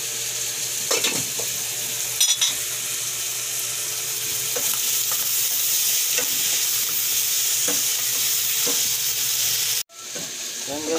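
Ingredients for carbonara pasta sizzle and fry steadily in a hot pan, with close, repeated stirring scrapes and a brief clatter near the end. There is little or no talk.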